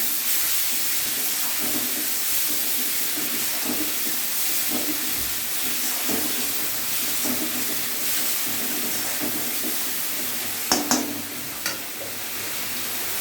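Onion paste sizzling steadily in hot oil over onions already fried until reddish, a continuous close hiss with a few sharper crackles near the end.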